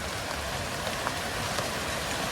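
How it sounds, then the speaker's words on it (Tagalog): Hard, steady rainfall drums nearby in a continuous broadband wash, with a few louder drop impacts standing out and nobody talking. "Ang lakas talaga ang ulan, Bugard."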